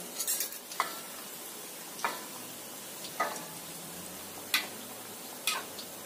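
Soft sizzling of crackers frying in a small amount of oil, with occasional clinks and scrapes of a utensil at irregular intervals.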